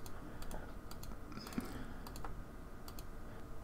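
Computer mouse clicking through boxes in Reality Capture 3D scanning software: sparse, sharp, close clicks scattered over a quiet room background.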